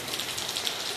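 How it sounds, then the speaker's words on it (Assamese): Rain falls in Guwahati as a brief, even hiss of drops, moderately loud and continuous with no voices. "বৰষুণ দিছে, বৰষুণ"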